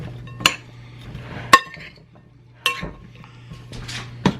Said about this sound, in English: Now I'm going to take a big spoon and then just kind of mix this all around.